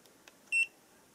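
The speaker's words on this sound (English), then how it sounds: "Continuity test." A GVDA GD166B clamp meter sounds its continuity-test beep: one short, clean electronic tone, close and fairly quiet, preceded by a couple of faint clicks.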